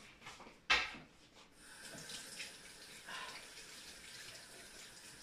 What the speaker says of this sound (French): je me la rince les doigts parce que là, c'est plus possible